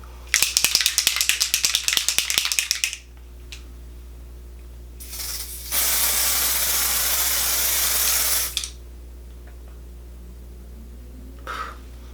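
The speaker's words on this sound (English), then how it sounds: "You're supposed to spray it like 8 inches away from your face." Spritzes of aerosol setting spray are misted toward the face from a makeup can. A quick rattle of clicks comes first, then a sustained hiss of about three seconds, then a brief final puff, all close with no talk.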